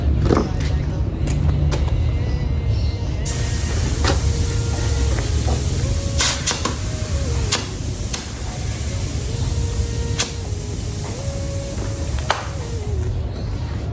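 Steady hiss of compressed air from an air tank inflating a motorcycle inner tube, running continuously and fairly loud for the whole stretch, with a brighter, sharper jet of air joining partway through and a person talking over it.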